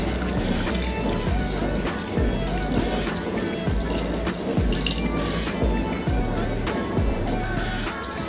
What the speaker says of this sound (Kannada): ಹಾಗೆ ಒಂದು ಸ್ವಲ್ಪ ನೀರು ಹಾಕೋತಾ ಇದ್ದೀನಿ